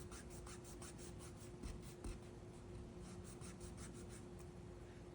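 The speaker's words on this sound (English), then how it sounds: "So let's erase this." An eraser rubs out part of a pencil figure drawing on paper, producing soft, quiet scratchy strokes in a quick back-and-forth rhythm with no talking.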